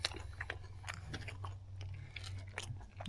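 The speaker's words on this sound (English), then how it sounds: "you hear that crunch?" Crispy fried fish skin crunches through a run of sharp, close bites and chews spread over a few seconds, with no talk.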